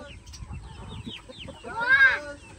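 A chicken on a farm clucking at close range, a burst of throaty calls swelling toward the end over faint background noise, with no speech.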